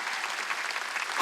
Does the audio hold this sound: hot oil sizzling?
no